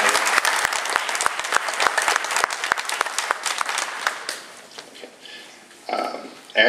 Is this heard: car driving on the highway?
no